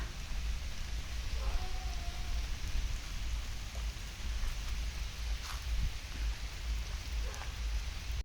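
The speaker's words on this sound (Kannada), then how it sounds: "ಮಳೆ ಜೋರಾಗಿ ಬರ್ತಾ ಇದೆ." Heavy rain pours steadily in a village, a dense, continuous hiss with a low rumble underneath, even and moderately loud throughout, with no voices.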